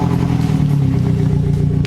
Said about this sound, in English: Let me hear the exhaust.